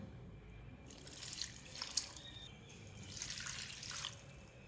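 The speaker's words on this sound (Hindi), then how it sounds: "2 कप पानी डालूंगी इसमें।" Two cups of water are poured into a pot of moong dal with turmeric, chili and garlic-ginger paste, giving a faint, soft splashing and trickling that comes in two short bursts with no talking.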